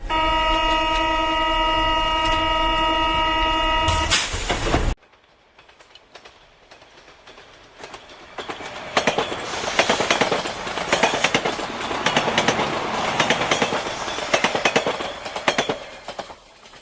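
A Tokyo metro train rumbles along the tracks toward Shibuya with rhythmic clatter and rising noise, following a sustained electronic tone that cuts off abruptly.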